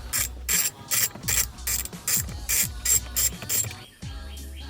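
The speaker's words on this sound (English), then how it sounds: "Now we're going to go ahead and remove those 2 8mm bolts." A ratchet backs out two 8mm bolts on a GT350 steering wheel, its rapid pawl clicks coming in about ten close, crisp bursts, each followed by a short pause, with a duller steady tone at the end.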